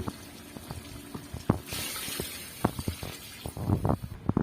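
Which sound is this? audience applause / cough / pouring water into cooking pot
pouring water into cooking pot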